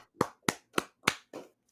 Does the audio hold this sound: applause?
yes